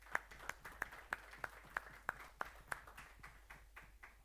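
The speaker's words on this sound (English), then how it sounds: "So I would like you to give a round of applause" Sparse, evenly spaced claps from an audience at an investor meeting, roughly a dozen distinct hand claps in a slow rhythm over a faint room background, fairly quiet and thin rather than a full ovation.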